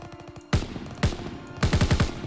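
Loud, close bursts of rapid automatic gunfire in the Call of Duty: WWII campaign come in three volleys separated by short pauses.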